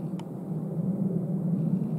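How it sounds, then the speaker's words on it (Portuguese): A steady low rumble of an airplane passing overhead at night in Japan, continuous and fairly even, with no talking. "Tem um avião passando aí."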